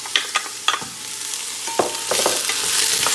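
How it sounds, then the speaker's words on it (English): Minced ginger and garlic sauté in a pot for a spiced carrot and butternut squash coconut bisque, with a steady sizzle that builds louder near the end. A spoon scrapes and stirs in several sharp clicks over it. Nobody speaks. "we're gonna saute this up"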